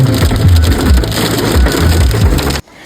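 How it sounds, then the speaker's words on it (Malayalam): A hailstorm in heavy rain, with small ice balls striking hard surfaces in a loud, dense, crackling clatter that runs continuously and then cuts off abruptly near the end. "അതിശക്തമായ മഴ. വെറും മഴയല്ല, കൽമഴ."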